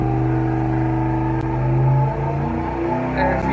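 A car engine runs on a dyno on Driven GP-1 high performance oil, a loud, close, sustained tone that rises and shifts in pitch as the revs change.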